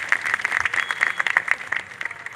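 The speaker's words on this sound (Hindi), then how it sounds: "सबके लिए एक बार ताली बजा दीजिए।" Audience applause at the unveiling of a life-size statue of Jijau, mother of Chhatrapati Shivaji Maharaj, a steady crowd clapping throughout at moderate loudness with no voices over it.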